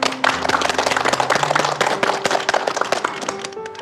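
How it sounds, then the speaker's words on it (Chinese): A live audience breaks into dense, energetic clapping at a support gathering for people with Huntington's disease and their families. The applause is close and loud, runs continuously, and has background music beneath it. "让我们给他们二位鼓鼓掌"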